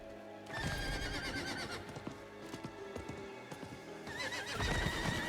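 Hooves clip-clop in a steady gallop beneath a horse's neighs and whinnies as a rider crosses the Ancient Woods toward a cliff edge in Diablo 4, with bright in-game effects layered over the close, continuous hoofbeats.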